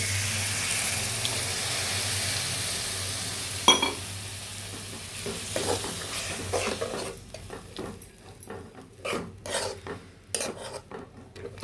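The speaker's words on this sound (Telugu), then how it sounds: "ఇదిగండి కొంచెం వాటర్ వేస్తున్నా" Water poured into sizzling masala for a broad bean (chikkudukaya) curry: a steady, close frying hiss that fades, then scattered clinks and scrapes of stirring in the pan.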